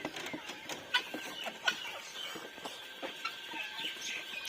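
A golden hen clucking in a backyard poultry pen, with soft, irregular short clucks and calls close by, fairly faint over a quiet background.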